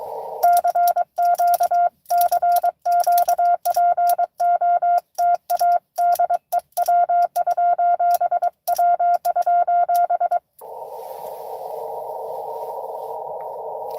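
Morse code CW tones on amateur radio beep in a steady mid-pitched note, keyed in quick dots and dashes for about ten seconds, loud and clean, then give way to a flat hiss of radio noise.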